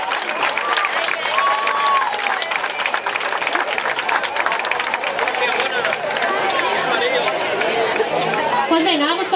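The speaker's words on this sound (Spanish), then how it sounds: "El público para aplaudir, ¿eh?" Festival audience at an outdoor end-of-festa-major event in the rain applauding and chattering, a dense steady wash of clapping and crowd noise throughout with whistles and voices mixed in.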